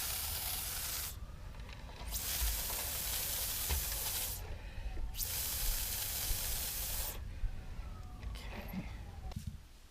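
Atomizer spraying glaze onto a pottery bowl being re-glazed for re-firing, heard as three long, loud hissing bursts of mist separated by short pauses, over a steady low room rumble.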